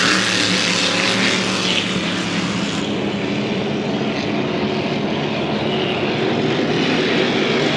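Engine of the vintage racing hydroplane GT 242 Miss Dynamite, methanol-fuelled, running at a Valleyfield race: a loud, steady, broad roar held throughout with no break.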